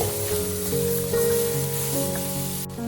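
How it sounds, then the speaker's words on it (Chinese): Garlic pork ribs splashed with light soy sauce and vinegar sizzle and crackle steadily as they are quickly stir-fried in a hot wok, a close, continuous frying hiss. "快速的翻炒几下就差不多了"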